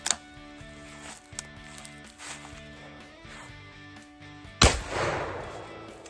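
A Henry .410 single barrel shotgun fires one loud, sharp blast near the end, with a booming tail, after quieter handling sounds and background tones.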